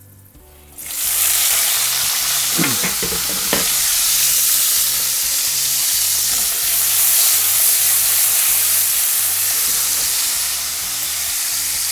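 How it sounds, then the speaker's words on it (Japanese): Salted tomatoes dropped cut side down into a hot frying pan with garlic and basil stems, bursting into a loud, sustained close sizzle and hiss that holds steady, with a few brief clinks early on. "でここでフライパンをフラットにして、でこの塩したトマトを入れます"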